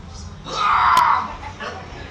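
A person screams in a tense lightsaber duel scene after a hand is sliced off, a single loud, rising and falling cry lasting about a second, heard alone with faint background.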